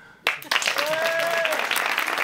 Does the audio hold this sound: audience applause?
yes